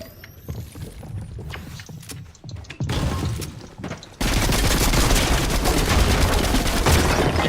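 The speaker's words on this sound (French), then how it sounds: "Il tire à travers les murs." Gunfire in the Unreal video game, with rounds shooting through walls: scattered sharp shots give way to a loud, sustained roar of continuous fire in the second half, with no talk.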